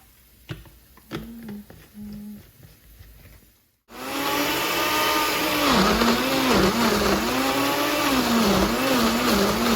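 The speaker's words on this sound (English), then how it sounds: "I'm just gonna blend it and then mix everything at the end." A few soft clicks and knocks lead to a small blender whirring through roasted vegetables for plant-based jollof rice, a loud, sustained motor whine whose pitch dips and rises as the contents churn.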